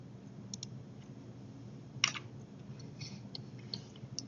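Computer mouse clicks in bridge design software, a few sharp, faint, isolated clicks spaced across a quiet room, with one louder click in the middle.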